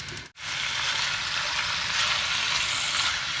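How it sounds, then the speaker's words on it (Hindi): One kilogram of chicken frying in half a cup of hot coconut oil, a loud, dense, steady sizzle close by after a brief dip at the start, with no talk. "चिकन को हम भून लेंगे।"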